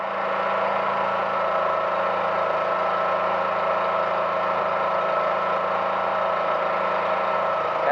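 Engine of a Bridgemaster HSL machine running steadily under load as an outrigger lowers, a continuous mid-pitched drone with a low hum beneath and little change in loudness.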